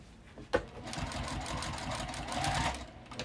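A domestic sewing machine runs steadily, stitching slowly over a thick quilted bag handle, with a sharp click at the start and then a continuous close mechanical whir.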